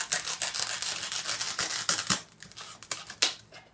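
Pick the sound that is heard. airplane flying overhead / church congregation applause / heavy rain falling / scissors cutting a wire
scissors cutting a wire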